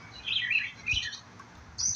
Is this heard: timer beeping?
no